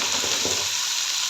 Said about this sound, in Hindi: तो प्याज हमारी तो ऑयल यहाँ पे गर्म हो चुके हैं। इसके अंदर मैं डाल देती हूँ प्याज।